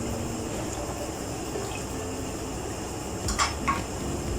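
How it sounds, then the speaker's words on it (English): Full cream milk being poured into a pan of thick cooking sauce: a soft, steady liquid trickle over faint kitchen background, ending with two brief clinks of a utensil or pan. "So now it's time to add half cup of full cream milk."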